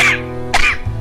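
Two small coughs close by, a short one at the start and a second about half a second later, each followed by a faint voiced tail, with no talking.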